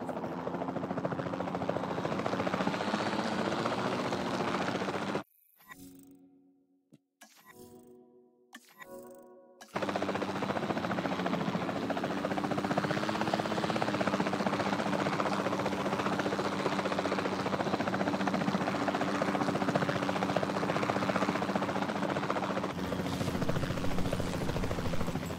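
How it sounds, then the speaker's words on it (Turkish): Capture Team helicopter in Jurassic World Evolution 2, a loud steady rotor and engine drone that drops out briefly for a few seconds with some clicks before returning and holding constant to the end. "Then, the sensible thing is to take a Capture Team helicopter"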